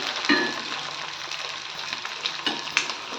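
Onions sauté in a pan for a Tamil garlic kuzhambu, a quiet, even sizzle with occasional light scrapes and clinks of stirring, heard close and alone.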